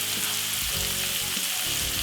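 White onion and vegetables stir-frying for cabbage and saltfish, with a loud, continuous hiss of oil and steady sizzle filling the whole moment up close, joined by occasional stirring.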